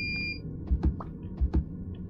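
A smoke or fire alarm in a horror video game gives one short, high electronic beep at the start, followed by several dull low thuds with no talking.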